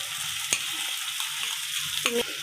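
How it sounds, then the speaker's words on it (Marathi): Tomato puree from three blended tomatoes hits well-browned onions frying in a pan, giving a steady close sizzle broken by a couple of sharp utensil clinks. "मी याच्यात आता घालणार आहे टोमॅटोची प्युरी"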